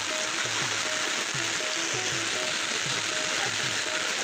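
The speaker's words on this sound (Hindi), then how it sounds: "सुबह सुबह बारिश ना मौसम" Rainwater flows steadily in Mirpur, Azad Kashmir, making a constant broadband rushing wash. Faint voices and a few soft tonal sounds come through in the background.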